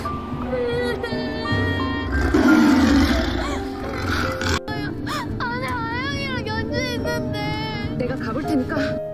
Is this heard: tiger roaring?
yes